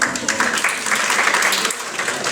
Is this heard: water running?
no